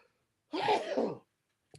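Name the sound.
sneeze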